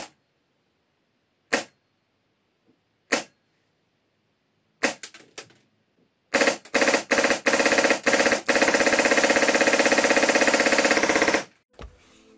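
An airsoft replica with an ARES HPA engine, run at about 90 PSI, fires a few sharp single shots, then several short bursts, then one long sustained rattling burst that ends abruptly, all close by.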